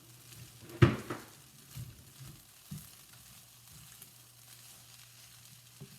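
Black-pepper-seasoned food being stirred in a hot pan during a quick home-cooked meal, giving a soft sizzle under a sharp stir-and-scrape clatter near the start, then a few lighter knocks and a low steady hum.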